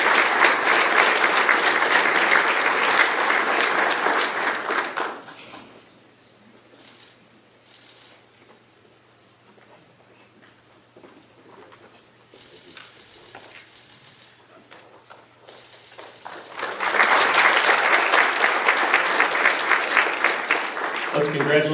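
Audience applause at a high school scholarship ceremony for the Class of 2025, a dense burst of clapping for about five seconds, a quieter stretch with faint sounds, then a second full round of clapping.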